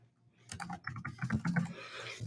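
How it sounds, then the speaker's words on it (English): Keystrokes on a computer keyboard as an email message is entered in Gmail, a quick irregular run of clicks starting after a brief quiet moment and continuing close and clear with no talking. "you're going to type in your message"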